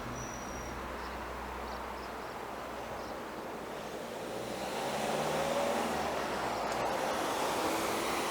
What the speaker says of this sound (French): ça serait bien que les voitures elles se dépêchent